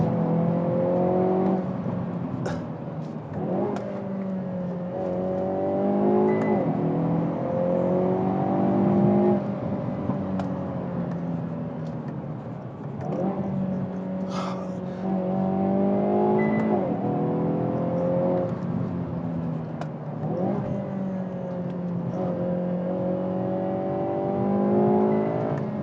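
Hyundai Veloster N driven briskly from inside the cabin, engine note rising and falling repeatedly through gear changes, steady and moderately loud throughout.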